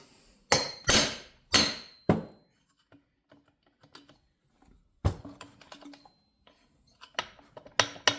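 Sharp hammer whacks on a Stihl BG 55/65 blower flywheel being broken free in a workshop. Four loud metallic strikes come in quick succession, then quieter taps and clinks, then another cluster of hits.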